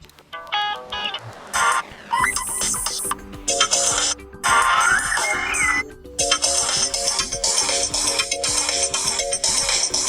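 A bright synthesized preset ringtone on a Motorola Moto G8 Power Lite phone plays a looping electronic melody, loud and continuous with brief pauses between phrases.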